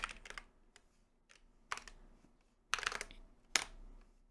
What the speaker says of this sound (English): Hear that? There's a little sound sample. Keystrokes.